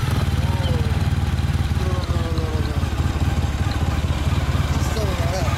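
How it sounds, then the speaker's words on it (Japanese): A Honda VFR1200F motorcycle engine idles with a deep, throaty rumble through a loud aftermarket Wyburn exhaust, steady and close, while people talk over it. "エンジン音聞かせてもらえますか？"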